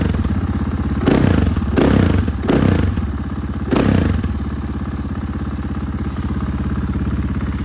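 A motorcycle engine idling after spring preparation, a close, steady putter with a few louder clattering bursts and thumps in the first half before it settles back to an even idle.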